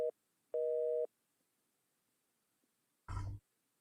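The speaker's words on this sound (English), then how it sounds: "Let's listen to this. Oh, dial tone." A telephone dial tone in the horror game The Painscreek Killings sounds as two short steady hums, the second lasting about half a second, followed after a silence by a brief rough noise burst.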